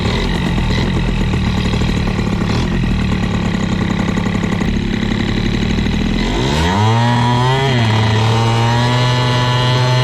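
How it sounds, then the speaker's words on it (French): A stock Airsal CPI 70 scooter engine revs loudly and roughly with ignition backfire pops and an uneven, unclean pull, then drops to a lower, steadier drone near the end. "J'ai l'impression que j'ai des pétarades d'allumage."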